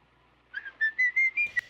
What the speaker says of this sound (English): And he has that obnoxious freaking whistle.